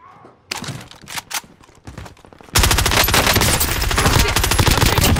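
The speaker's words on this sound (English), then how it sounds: "I'm taking fire." Video game gunfire in a squad battle: a few scattered shots and thumps, then from about midway a loud, sustained automatic burst of rapid machine-gun fire that continues to the end.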